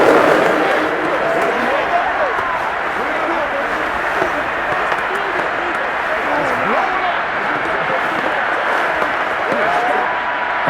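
Madden NFL 22 stadium crowd at a Super Bowl 56 simulation between the Chiefs and Rams, a dense, loud and unbroken roar with scattered clapping.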